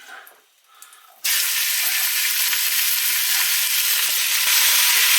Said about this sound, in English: And then get the beef straight in there.